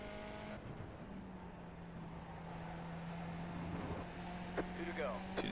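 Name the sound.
race car engine in iRacing at Zandvoort, video game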